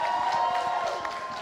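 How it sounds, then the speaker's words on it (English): A crowd applauding the bands after a Battle of the Bands show, dense continuous clapping and some cheering filling the space at a steady moderate level. "can we please get a round of applause for everybody who has come up on this stage tonight"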